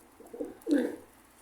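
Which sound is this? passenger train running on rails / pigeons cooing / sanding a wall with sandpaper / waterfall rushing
pigeons cooing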